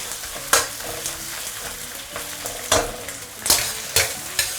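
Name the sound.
stir-frying doubanjiang bean paste with ginger and garlic slices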